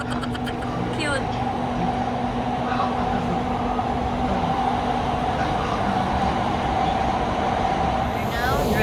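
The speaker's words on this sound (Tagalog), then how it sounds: "We're now driving the train." A ride-on train carrying passengers rolls along steadily, a loud continuous rumble and rattle with a sustained hum, and voices come through faintly over the running noise.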